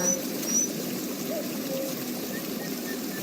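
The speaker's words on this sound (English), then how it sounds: "you can look at this or hear the birds of nature" Faint, thin bird chirps and short calls drift over a steady wash of background noise, distant and intermittent throughout.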